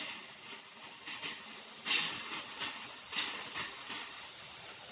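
Air sputters and hisses out of a hot water line at a faucet during a gas water heater install, a steady breathy rush with small surges and sputters.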